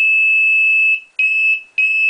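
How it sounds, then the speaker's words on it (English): A homebrewing control panel timer alarm sounds a loud, piercing electronic tone, one long blast followed by two shorter ones with brief gaps, close by and alone. "If I move it over to the right, this will activate the alarm."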